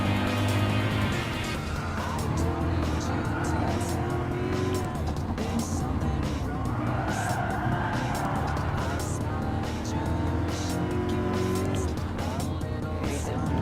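McLaren SLR German supercar racing in Gran Turismo Sport, its engine roaring loud and steady with rising and falling gear pitches and occasional tire squeal, while a voice talks over it.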